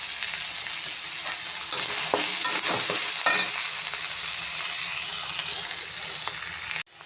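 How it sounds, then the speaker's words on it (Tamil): Green chili and ginger garlic paste sautéing in a pan, a close, steady sizzle broken by a few scraping stirs in the middle before cutting off abruptly. "இஞ்சி பூண்டு பேஸ்ட்டு போட்டுக்கோங்க. நல்லா வதங்கட்டும்."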